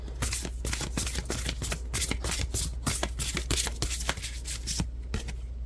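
Large oversized affirmation cards shuffled by hand at close range, a fast run of crisp riffling slaps and soft flicks in steady rhythm, with no speech over it.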